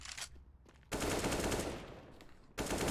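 Rapid automatic gunfire from a Counter-Strike match in a competitive esports broadcast, dense sustained bursts with a short gap between them, loud and close with no talk over it.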